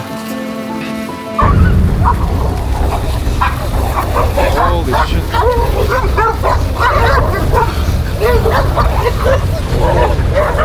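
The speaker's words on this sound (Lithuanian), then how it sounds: "Pažiūrėkit, kiek šuniukų." A pack of dogs at Machu Picchu barks, yips and whimpers as they fight, loud and close. The snarling burst starts after a quieter opening second and keeps going, with a person exclaiming over it.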